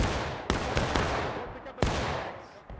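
Musket fire from the American Civil War game War of Rights, with a few sharp separate shots crackling over a constant din of battle noise at moderate distance.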